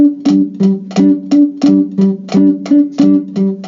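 A guitar picking pattern repeats steadily, each stroke a quick double attack with a slight grace-note flam, evenly spaced and close.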